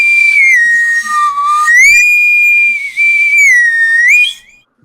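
A shrill whistle is blown in several long sustained blasts with slight pitch wavers and short breaks between them, loud and close.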